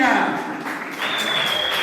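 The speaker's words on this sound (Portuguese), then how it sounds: "Aplausos," A crowd at a Portuguese rap battle semifinal applauds in a dense, continuous wash. Voices call out on top of the clapping.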